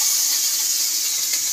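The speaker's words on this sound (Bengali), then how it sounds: "এইভাবে তিনটা মাছ একসাথে ভেজে নেব।" Three fish fry together in a pan of hot oil, giving a steady, loud, even hiss of sizzling that holds without a break from start to finish.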